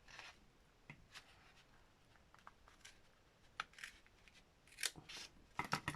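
Scissors cut paper for a journal storage folder in a series of quiet, close snips and rustles, with a few sharper clips toward the end.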